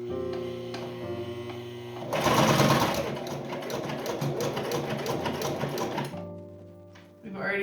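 A sewing machine fitted with a walking foot stitching leather, a fast mechanical chatter over a steady electrical hum that starts at about two seconds and runs for several seconds before stopping.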